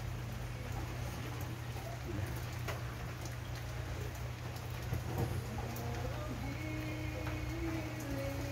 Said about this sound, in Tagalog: Ulan mga idol, ulan.